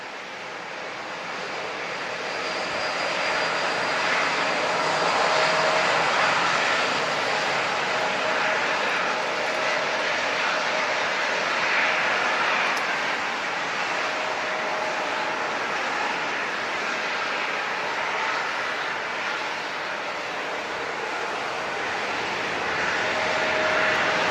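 A jet airliner at San Diego International spools up its engines for takeoff, a broad, steady roar that builds and holds loud across the whole stretch, with no talk over it.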